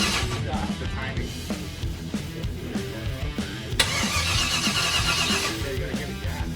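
A 1956 Chevy truck engine cranks and tries to fire during a first start-up, a steady mechanical churn that swells louder partway through, with voices talking over it.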